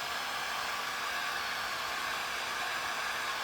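A hair dryer blows steadily on paint drying on a craft sign, giving a constant, close, breathy whoosh with no change in pitch or strength from start to end.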